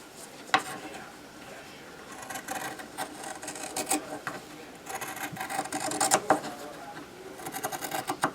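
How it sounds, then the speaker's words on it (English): A sewing machine stitches around a small handbag in irregular bursts of fast, rattling runs, separated by short pauses and soft handling of fabric. "I want to sew right around through here"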